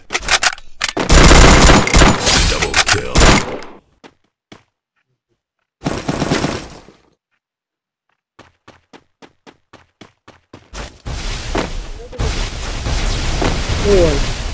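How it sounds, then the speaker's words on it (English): Heavy machine gun fire in a mobile shooter game, loud rapid bursts in two clusters separated by near silence, followed by scattered single shots and a final stretch of continuous firing. "Heavy machine gun."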